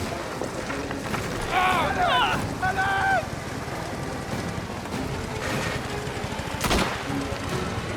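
Gunfire from the video game Mafia The Old Country sounds in a dense, steady in-game din of shots and engine noise, with a voice calling out over the action.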